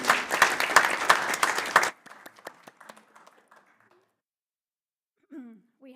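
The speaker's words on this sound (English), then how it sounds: "Let's give our new members a round of applause." A church congregation at a Sunday service claps for new members, loud dense applause for about two seconds that thins into scattered claps and fades, followed by a brief voice.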